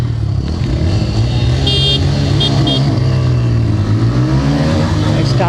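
A Bajaj Pulsar N160 and a TVS Raider 125 rev loudly together at the launch of a drag race, engines droning and climbing in pitch close by, with brief faint chatter in the background.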